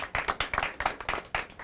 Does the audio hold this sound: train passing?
no